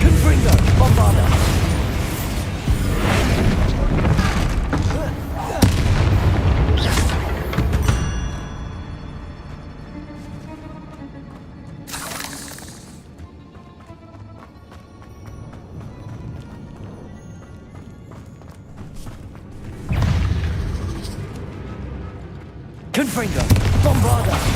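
Confringo and Bombarda spell blasts in the video game Hogwarts Legacy: repeated loud booms and crashing bursts arrive in clusters with quieter stretches between, and a voice talks over parts of it.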